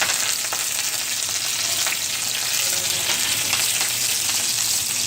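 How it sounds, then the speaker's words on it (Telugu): Tempering seeds and peanuts crackle and sizzle in hot oil for a spicy masala macaroni pasta, a loud, steady hiss that runs throughout with faint stirring and no voices. "నూనె వేడెక్కాక పోపు గింజలు,"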